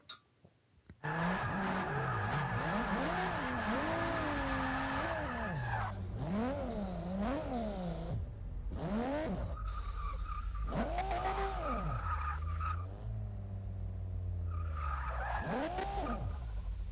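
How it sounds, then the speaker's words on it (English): Cars do donuts in the Forza Motorsport 6 racing game, with a long, wavering tyre squeal and skidding over revving engines, loud and continuous, rising and falling in pitch after a brief quiet start. "Looks like the guys just need to warm up the tyres a little bit. A few donuts for us,"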